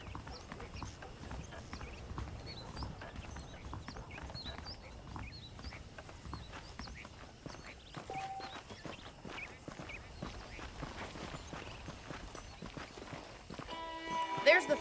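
Steady clip-clop of horse hooves at a walking pace in the video game Red Dead Redemption, moderately close, with a few faint bird chirps in the background.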